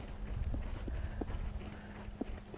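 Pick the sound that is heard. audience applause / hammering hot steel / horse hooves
horse hooves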